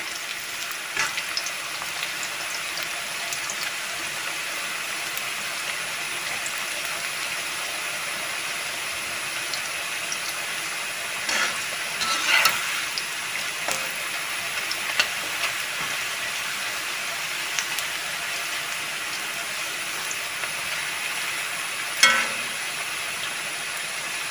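Breadfruit chips fry in hot oil, giving a steady bubbling sizzle throughout, with occasional scraping clinks as they are stirred and no voices.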